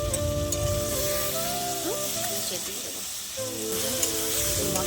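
Prawns and potatoes frying in hot oil give a steady, close sizzle that runs the whole time, with a brief dip in the middle and faint voices behind it.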